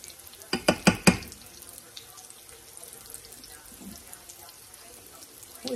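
Fry bread frying in a pan gives a steady, low sizzle throughout, opening with a quick run of sharp, loud clatters and ending with a brief rise in volume.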